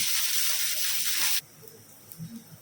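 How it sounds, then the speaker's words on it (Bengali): Onions sizzle loudly in a hot pan, a steady hiss lasting over a second that stops abruptly and leaves quiet kitchen background. "ওদিকে পেঁয়াজটা ভাজতে দিয়েছি"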